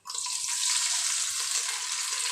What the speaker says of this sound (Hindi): थोड़ा सा पानी डाल देती हूँ।